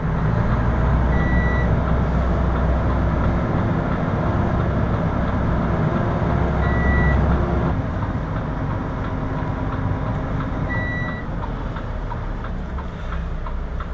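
Tachograph warning beep in a Volvo FMX truck, repeating short tones that sound in small clusters over the steady, loud rumble of the idling engine inside the cab.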